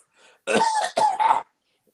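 A person coughs twice in quick succession, harsh and close, after a faint breath, with silence around it.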